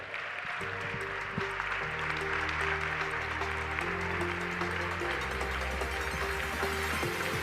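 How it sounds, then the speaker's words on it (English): Applause from the audience at the EIT Innovation Awards 2025 ceremony as the finalists gather on stage for a group photo: a steady, dense wash of clapping throughout, mixed with loud music. "and the group photo, and a big applause."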